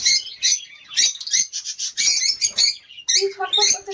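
Frightened pet birds in a cage give loud, close, shrill squawks and chirps in rapid irregular bursts, overlapping and restless, with brief gaps between the outbursts.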